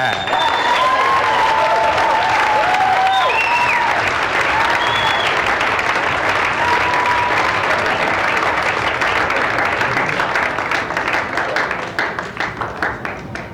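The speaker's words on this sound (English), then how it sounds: "A nice round of applause for Mr. Dan Spencer." Stand-up comedy audience at Tufts in 1984 breaks into dense, loud applause with scattered whoops and cheers for a comedian taking the stage, sustained for about twelve seconds before tapering off.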